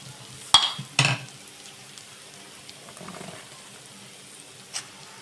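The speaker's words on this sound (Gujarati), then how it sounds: "હવે આપણે આ ડુંગળી સતરાઈ ગઈ છે એકદમ સરસ. તો હવે એની અંદર આપણે આ બધા બટેટા નાખી દઈશું" Mashed potatoes drop into a pan of sautéed onions, making two close thuds followed by soft stirring scrapes and a faint sizzle, with one more light knock near the end.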